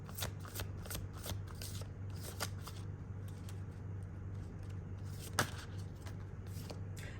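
Tarot cards being shuffled by hand at close range: a steady run of soft papery riffles and flicks, with a low constant hum underneath and one sharper snap near the end.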